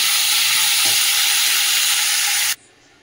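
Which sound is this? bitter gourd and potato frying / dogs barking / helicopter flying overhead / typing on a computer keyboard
bitter gourd and potato frying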